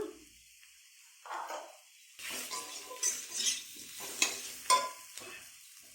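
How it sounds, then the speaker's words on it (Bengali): Spices with Kashmiri chilli powder being stir-fried for katla fish sizzle quietly in a pan, with intermittent scrapes and clinks of a spoon against metal in short irregular bursts. "এবার এগুলোকে ভালো করে মশলাগুলোকে কষে নেব।"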